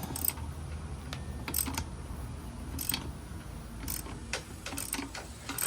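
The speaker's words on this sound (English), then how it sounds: "to break this nut loose on the axle shaft, you need to hold the other side with your 22." A wrench works the axle nut loose on a Yamaha TW200 motorcycle, giving a few sharp metallic clicks and ratcheting ticks scattered over steady low background noise, close by.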